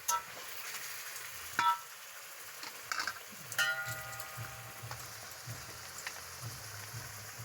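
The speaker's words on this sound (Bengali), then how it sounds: "চিকেনগুলোকে না খুব ভালো করে কষাতে হবে" Marinated chicken for a village-style chicken biryani sautés quietly in a pan, a soft low sizzle with occasional spoon scrapes and clinks against the pan.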